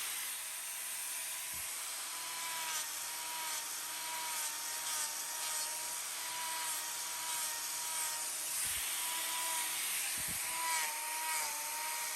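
Power trimming tool grinding away at a cow's claw, a steady whining, rasping drone that holds throughout with small shifts in pitch and a few soft knocks.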